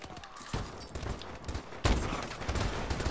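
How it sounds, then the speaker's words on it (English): Sniper rifle fire in Call of Duty: Advanced Warfare, with dense, loud gunfire and explosive noise filling the clip and a sharp, heavy blast near the middle. "I can't believe how I missed that shot with my sniper"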